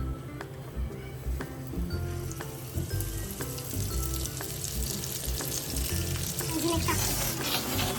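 Pomfret fish coated and frying in a pan sizzles loudly and steadily up close, with sharp crackles and spits scattered across the continuous hiss and no speech.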